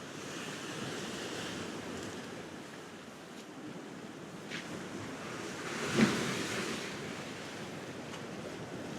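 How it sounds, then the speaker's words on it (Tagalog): Strong ocean waves roll and crash in a continuous wash by a short jetty at Port Elliot, South Australia, with wind buffeting the microphone and a louder surge breaking partway through. "Grabe, ang lakas pa rin ng alon."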